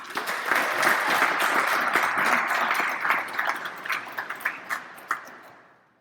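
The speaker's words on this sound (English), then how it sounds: "give her a round of applause anyway" An audience at a Greater Omaha Chamber civic event in Omaha breaks into sustained applause, loud and dense at first, then thinning into scattered claps that fade out near the end.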